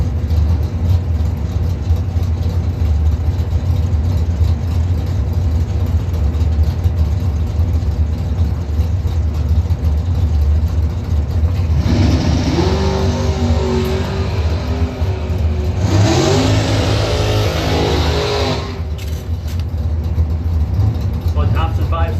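A 1982 Camaro drag car races down the strip with a loud, constant low engine roar, and two rising high-revving passes stand out in the middle. An announcer talks over the roar throughout.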